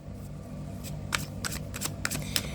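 Tarot cards being shuffled by hand: a brief run of crisp riffling flutters and soft slaps, close and fairly loud over faint room hum.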